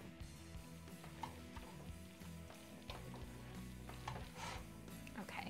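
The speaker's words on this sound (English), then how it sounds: "give that one more good stir" Fettuccine alfredo sauce being stirred in a pot on the stove, a steady scraping and bubbling swirl with soft clinks, fairly close and continuous, no talk over it.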